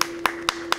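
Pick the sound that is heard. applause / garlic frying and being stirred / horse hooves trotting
applause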